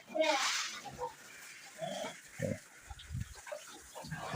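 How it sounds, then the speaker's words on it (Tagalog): Week-old piglets in a litter of five, giving several short grunts and squeals in bursts across the clip, close and moderately loud, with scuffling and splashing between them. "Update sa mga 5 pieces na biik."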